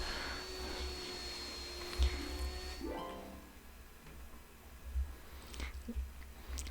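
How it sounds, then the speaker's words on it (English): A vacuum cleaner hoovering in The Sims 4: a steady droning hum with a faint whine runs for about three seconds, then drops away, leaving a quieter background with a few soft thumps. "He prefers hoovering rather than writing his own book."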